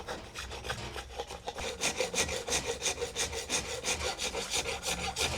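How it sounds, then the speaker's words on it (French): Hand tools work wood with steady, rhythmic rasping strokes, close and clear, like a plane or spokeshave shaving and cutting at a regular back-and-forth pace. "où on va entendre le bruit du bois se découper, on va avoir du copeau"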